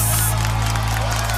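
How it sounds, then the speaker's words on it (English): A crowd claps and cheers in a dense, continuous wash of applause, loud and close, with murmuring voices mixed in. "Only give me a round of applause"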